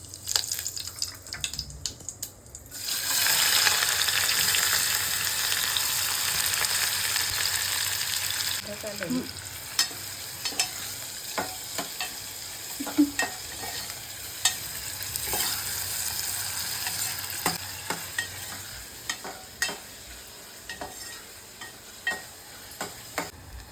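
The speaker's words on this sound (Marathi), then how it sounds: "इथे आपलं ऑइल आता रेडी झालंय. आता आपण त्याच्यामध्ये जिरं टाकलंय." Cumin seeds crackle and sizzle in hot oil for misal, a loud broadband fry that settles into steady frying with scattered pops and stirring clinks, continuing alone without talk.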